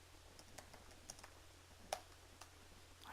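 Quick, scattered key clicks come from a computer keyboard as someone types fast during a Minecraft session, with light irregular taps and one sharper click over a low background hum, close and fairly quiet.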